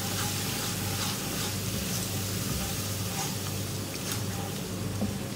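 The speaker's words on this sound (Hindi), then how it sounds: "भूनेंगे मसाले को।" Spice masala with Kashmiri red chilli and garam masala sizzles steadily in a pan as it is fried and stirred, a continuous close crackling hiss with occasional scraping, no talk over it.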